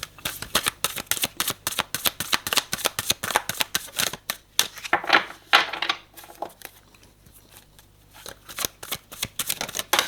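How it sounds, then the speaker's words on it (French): Playing cards being shuffled for a reading, a rapid riffling patter that runs in quick bursts, pauses briefly in the middle, then resumes close and crisp with no talking. "je vais recouvrir une dernière fois avec ces cartes-là"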